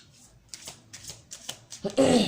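Tarot cards shuffled and drawn by hand in short riffling bursts, several soft flutters separated by pauses, ending in a louder, fuller shuffle up close, with no talking.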